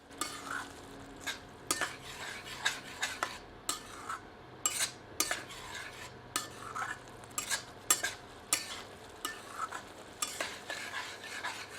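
Chickpea greens saag cooking on medium heat, salted and stirred in a pan: a soft background sizzle broken by frequent rhythmic scraping and clinking strokes of a utensil against the pan, with no talking.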